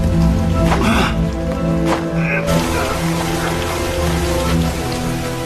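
Steady rain falls on the slick rubble of a collapsed apartment building sunk into a giant sinkhole, a dense continuous patter over a low rumble with musical tones running underneath.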